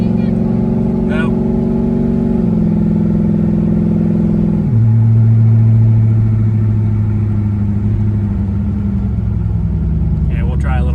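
A Toyota Prius with a swapped-in 6.0L V8 pulls away from a light takeoff with a loud, steady engine drone that steps down in pitch as it shifts through the gears, and a voice speaks over it.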